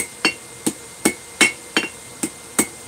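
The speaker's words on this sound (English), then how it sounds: "It's working right on the edge of the anvil. That way I can strike it down at an angle." Hammer blows ring out on hot metal worked at the edge of an anvil, eight sharp metallic strikes at a steady rhythm, close and clear with no talk.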